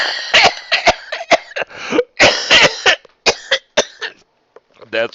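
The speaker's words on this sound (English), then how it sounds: "the cough was coming regardless" A person coughs in a loud, close fit of harsh, raspy bursts. The coughs come in irregular clusters, and a throat clear follows them.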